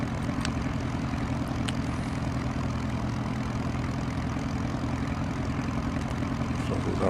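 Twin-engine aircraft in X-Plane 11 running steadily, a continuous loud propeller drone and engine rumble as the left engine is fired up alongside the already running right one, with a couple of faint clicks.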